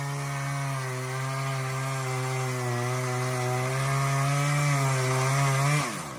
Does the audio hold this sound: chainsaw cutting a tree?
yes